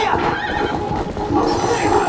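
A horse neighing loudly in the game Zelda: Twilight Princess, a long close whinny over galloping hoofbeats during a mounted fight.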